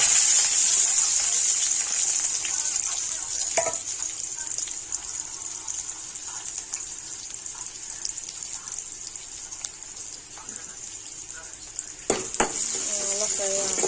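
Onions and dried red chillies fry in oil with mustard seeds for a cabbage curry, a constant loud sizzle with occasional spatula scrapes and clinks close by.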